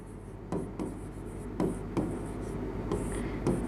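Chalk or marker writing on a board during an English grammar lesson, a series of short scratchy strokes with brief pauses between them, fairly quiet and close in a room with light background hum.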